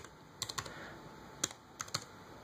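Light, quick keystrokes on a computer keyboard come in small irregular clusters as a router login address is typed, quiet and close in a still room.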